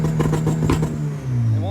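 A turbocharged car engine that fails to build boost is held on a two-step launch limiter, popping in rapid rhythmic bursts for about a second before settling into a steady idle.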